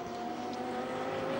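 Le Mans prototype race car at the 2010 Intercontinental Le Mans Cup at Zhuhai on Michelin tyres, a steady high-pitched engine whine holding at speed as it pulls away, moderately loud and continuous with no voices.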